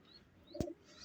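A single short coo from a Van Arab pigeon, close and fairly quiet, standing alone against a faint background hiss.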